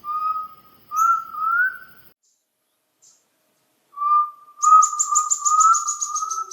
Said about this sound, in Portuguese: Fala sério, é o máximo o canto do jaó, né?